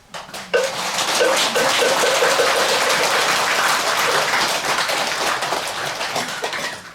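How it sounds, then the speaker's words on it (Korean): An audience at a Buddhist temple dharma service in Korea breaks into applause, a sudden burst of many hands clapping that holds steady for several seconds before thinning out. "귀한 말씀을 해주신 덕조 주지스님께 다시 한번 감사의 큰 박수 부탁드립니다."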